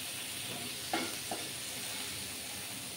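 Yam frying with spice paste in a pan on the stove: a steady, close sizzle runs throughout, with two brief stirring knocks around the one-second mark and no voices.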